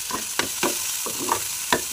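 Chopped coriander leaves fry with onions and garlic in a pan, a soft sizzle broken by several distinct spatula scrapes at an uneven rhythm, close and moderately loud, with no voices.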